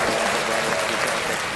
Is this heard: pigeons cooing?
no